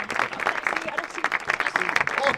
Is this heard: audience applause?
yes